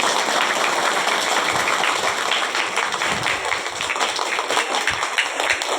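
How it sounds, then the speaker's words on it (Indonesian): Dense, continuous applause from a crowd at a visit to an Islamic boarding school in Indonesia, a steady wash of many hands clapping at once with no breaks. "Beri tepuk tangan semuanya."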